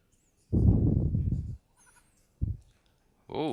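A few short goat bleats from a video game in bursts separated by quiet gaps, with a sharp electronic chirp at the end; no talking.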